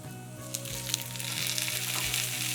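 Tomatoes fry with onion and garlic in a pan over a medium flame, giving a steady sizzle with soft crackles and a few light stirring scrapes. It is close and even, with no voices.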